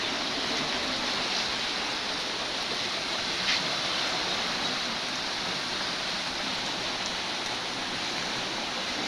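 Floodwater rushing across a village road in Margherita, Assam, a steady broadband wash of flowing water with no pauses, close and continuous throughout.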